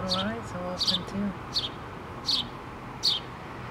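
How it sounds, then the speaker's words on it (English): Baby house sparrows in a nest inside a pole give high, thin chirps in short repeated bursts, about five spaced calls, while someone talks softly nearby. "They're doing the chirping."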